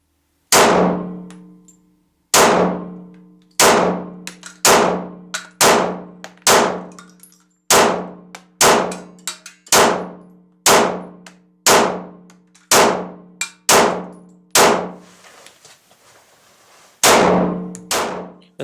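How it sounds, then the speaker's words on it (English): A 9mm Glock pistol fitted with a Glock 22 grip fires about fifteen sharp, loud shots in a steady series, each crack ringing out and decaying, with a brief pause near the end. "First I shoot the 9mm with the grip of the Glock 22."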